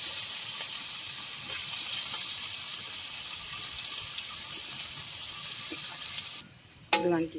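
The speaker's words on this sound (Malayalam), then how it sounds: "അപ്പോൾ നമ്മൾ വെളിച്ചെണ്ണ ഒഴിച്ചു, അതിലേക്ക് സബോള ഇടാൻ പോവാണ്." Sliced onion sizzling in hot coconut oil in a pan while prawn roast is being made, a steady close frying hiss that drops away near the end before a short clatter.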